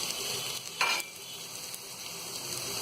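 Potatoes fry in a pan for vegetable dalia, giving a steady moderate sizzle with a brief louder scrape of stirring near the start.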